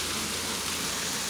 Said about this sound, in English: Mommy's waiting in the car till the rain dies down